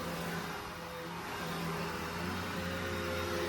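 Vacuum cleaner running steadily on carpet during pet-odor carpet cleaning, a continuous close motor drone with a tonal hum throughout, alone without speech.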